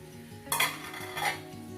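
Rice and fenugreek are washed by hand in water in a vessel, making two quick bursts of gritty swishing and clatter against the pot, soft and close.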